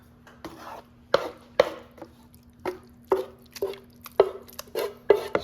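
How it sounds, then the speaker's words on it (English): A beef and mushroom mixture is tipped and scraped from a dish into a casserole, with a series of soft wet thuds and knocks roughly every half second against a faint steady hum. "Then we're gonna take that mixture that we just made and dump it in there."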